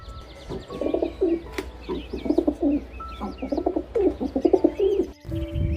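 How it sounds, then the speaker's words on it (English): Domestic pigeon cooing in repeated soft, throaty phrases against a background of other chirping birds, moderately close and steady throughout with no talk. "Domestic pigeon."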